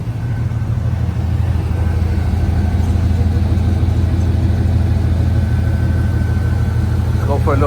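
An OBS pickup truck engine runs steadily before a test drive, a constant low idle rumble close by throughout.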